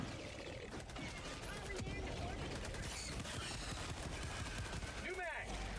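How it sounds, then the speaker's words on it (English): Weapons fire in Helldivers 2, including a grenade launcher, comes as dense, rapid bursts of loud shots and blasts, with voices heard over the firefight. "That's a grenade launcher."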